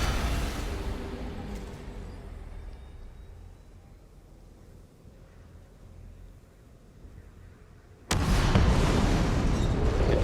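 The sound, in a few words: massive explosion in video game DOOM: The Dark Ages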